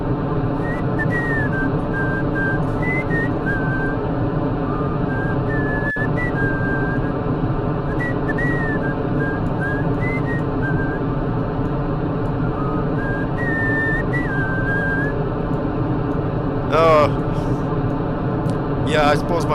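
A person whistles a wandering tune in short phrases against a steady background hum, the whistling fairly clear and intermittent over about twenty seconds.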